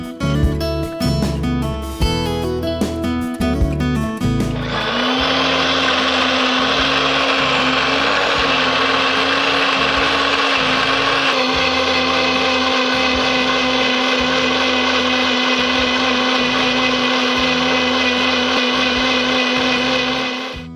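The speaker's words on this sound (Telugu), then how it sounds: "సో ఇప్పుడు మిక్సీ పట్టుకుందాం." An electric mixer grinder blends carrot, kiwi, ginger and water into juice with a loud, steady whirring roar. A few rough pulses and rattles at the start settle into a continuous high-speed whine that runs for about twenty seconds.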